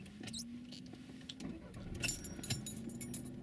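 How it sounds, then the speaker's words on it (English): Car keys jangle in short metallic bursts near the microphone, followed by a low steady hum as the car is started, a quiet scene inside a car parked in a parking bay. "Tony, if you'd just like to start the car up"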